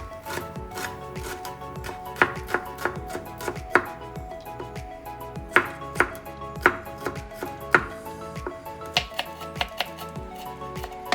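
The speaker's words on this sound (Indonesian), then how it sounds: "Bawang merah ini akan kita tumis, kita iris tipis dulu" A knife thinly slices shallots on a cutting board, sharp regular chops close by, with no talking.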